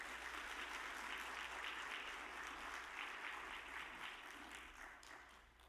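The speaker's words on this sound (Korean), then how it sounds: "우리 박수로." A church congregation at a retreat applauds to welcome a pastor, a dense, steady wash of clapping from many hands that gradually tapers off toward the end.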